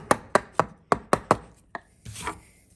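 A wood chisel chops out the waste for a bridle joint in a series of sharp, close knocks, six quick strikes followed by a single hit and a softer scraping cut.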